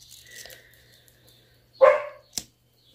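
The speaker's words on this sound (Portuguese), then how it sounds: "Vocês vão ouvir cachorro latindo, passarinho fazendo barulho." A dog barks once loudly at close range, followed by a shorter, sharper yelp, with quiet room ambience and a faint steady hum in between; no one is speaking.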